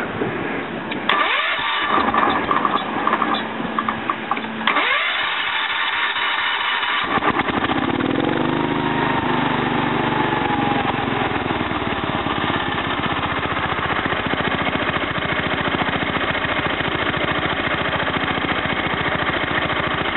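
A Kohler K241 small engine, started without choke after a short earlier run, cranks briefly, then catches and settles into a loud, steady fast idle with the idle speed turned up, close by with no talking.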